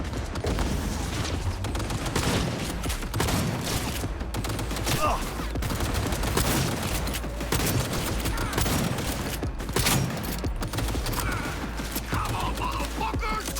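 Dense gunfire fills a firefight in the video game Cyberpunk 2077, with bursts of automatic fire and shots cracking almost without pause, loud and sustained throughout.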